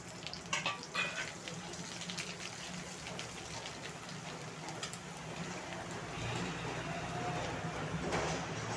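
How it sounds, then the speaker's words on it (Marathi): Coconut, onion and ginger-garlic paste fry in hot oil with crackling cumin and mustard seeds for a Maharashtrian tur dal kofta rassa, a steady close sizzle that swells louder toward the end, with a few scattered clicks and spatters. "जिरं मोहरी तुडतुडायला लागली की आपण जी खोबरं, कांदा आणि आलं लसणाची पेस्ट होती ती पूर्ण याच्यामध्ये टाकून घेणार आहोत"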